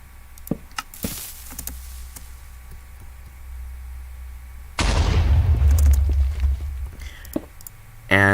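A TNT block explodes in Minecraft: a sudden loud, rumbling blast with a broad noisy burst that decays over a few seconds, after quieter clicks and game ambience, ending with a short tonal sound.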